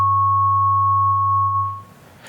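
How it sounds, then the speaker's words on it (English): Ring modulation output with a 600 hertz carrier, producing two steady pure tones at 1100 and 100 hertz, held loud and continuous before cutting off. "You hear those two tones. That's all ring modulation is."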